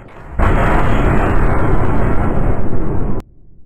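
A ship's gun fires a shell with one loud, close blast that rumbles on for about three seconds, then cuts off abruptly, with no voices over it.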